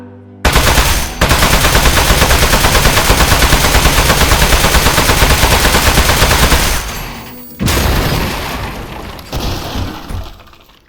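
Rapid automatic gunfire rattles in the video game Aperture Desk Job, a dense, loud, sustained burst lasting several seconds, a brief pause, then more shooting with crackling impacts, without voices.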